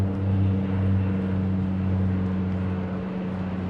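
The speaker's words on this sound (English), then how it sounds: "And that plane had snowshoes on it, or snow skis or whatever." A ski-equipped light airplane passes overhead near Denali with a steady, fairly loud propeller drone. A low hum continues throughout without fading.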